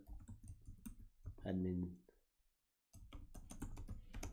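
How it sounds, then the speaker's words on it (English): Typing on a computer keyboard, a run of soft close key clicks before and after a brief spoken word and a short silent gap, fairly quiet throughout. "I'm going to type download"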